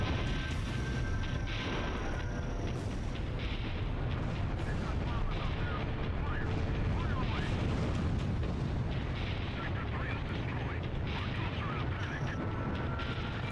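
Missiles fire and explode in the combat flight game Ace Combat Zero over continuous loud jet and engine rumble, with dense overlapping blasts and crackle and no clear pause.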